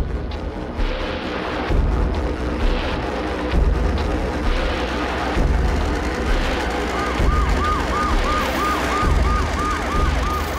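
An ambulance siren wails in a tense emergency scene, rising and falling repeatedly through dense rumbling background noise, with the warbling tone growing clearer toward the end.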